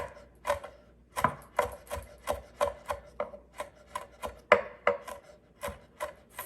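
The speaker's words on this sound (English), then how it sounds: "if you don't have the stuff for chop with, you can do with knife." Fresh Thai chilies are chopped with a knife on a board, about a dozen distinct close taps in an uneven rhythm with soft scraping between them.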